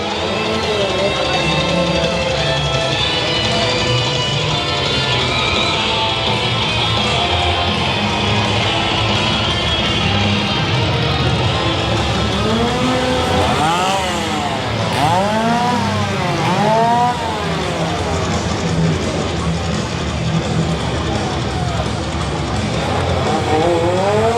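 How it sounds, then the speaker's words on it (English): Loud chainsaws whine and rev continuously throughout, with a few sweeping rises and falls in pitch, set against a dense, noisy background of a nighttime Halloween horror event at a theme park, with heavy metal music. "I hear some chainsaws going."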